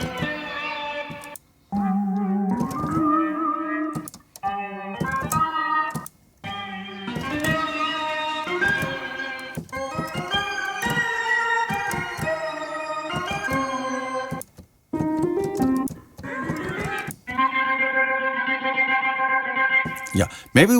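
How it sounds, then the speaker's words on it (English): Synth organ patch from Native Instruments Komplete 14 plays sustained chords and melodic phrases with heavy effects, distortion and echo, with brief gaps between passages and a voice talking over parts of it. "Next category is the organ."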